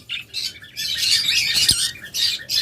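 Caged pet birds, cockatiels, budgerigars and doves kept for sale, chirp and tweet in bursts of bright, close calls with occasional squawks, moderately loud and free of talk.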